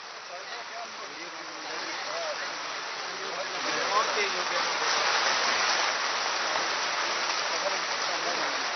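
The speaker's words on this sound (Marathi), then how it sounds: "अतिशय जोरात पाऊस पडायला सुरुवात झालेली आहे" Heavy rain pours down steadily during an Independence Day flag-hoisting outside the Congress headquarters, a dense broadband wash that grows louder midway and stays constant, with faint voices in the background.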